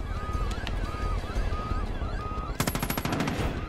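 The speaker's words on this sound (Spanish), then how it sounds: "No veo al otro que me está disparando." Enemy gunfire in the Far Cry 5 video game on Xbox One X: rapid automatic bursts crackle throughout, becoming a loud, dense string of shots in the last second, with faint talk underneath.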